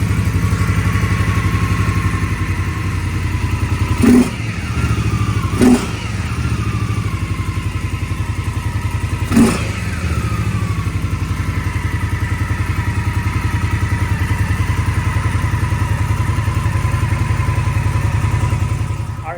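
A 2016 Indian Scout Sixty motorcycle with a newly installed S&S air intake idles loudly nearby with a steady rumble, broken by a few sharp blips of the throttle and brief thuds, with no talking.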